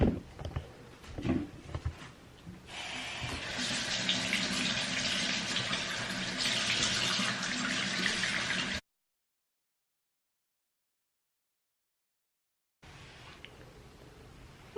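Tap water runs steadily for several seconds while someone washes their face under it, breaking off into silence and then returning more faintly at the end.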